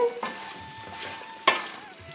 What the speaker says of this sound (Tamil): அப்படியே இது ஒரு பத்து நிமிஷம் அப்படியே எண்ணெயிலே வதங்கட்டுங்க